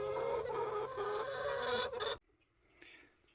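Backyard chickens cluck in a busy, overlapping chorus close by while expecting feed, then go abruptly quiet, leaving only faint scattered bird sounds.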